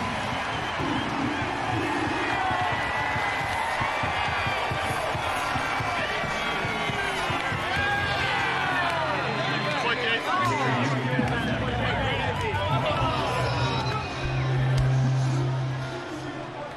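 A baseball stadium crowd roars continuously after a Tigers two-run home run by Spencer Torkelson, with whoops and cheers swelling throughout while an announcer talks over the noise.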